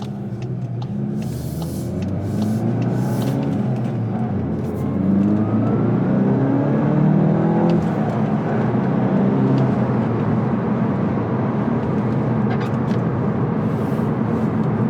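A 2022 Volkswagen Golf GTI with a manual transmission cruises on the Autobahn, its engine and road noise rising as it pulls harder, then holding a steady loud whir heard from inside the cabin.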